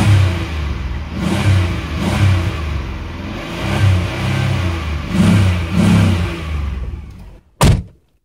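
A 2001 Buick Century engine revs in repeated surges, loud and close, rising and falling for several seconds before cutting off, followed by a sharp thunk like a door closing.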